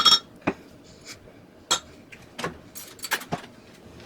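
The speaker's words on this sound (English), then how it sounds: "I'll use my fork to mix that up" A fork clinks against a dish while whisking Dijon mustard into milk, giving a few light, irregular metallic taps spaced across a few seconds, close and fairly quiet with no talking.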